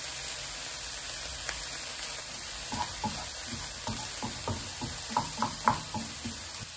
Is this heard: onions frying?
yes